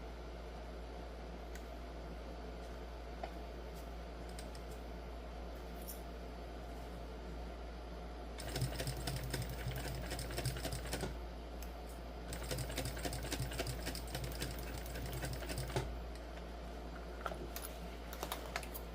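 A sewing machine fitted with a fine needle stitches a seam on a crossbody bag, running in two short, fast bursts of rapid mechanical clatter over a steady low background hum.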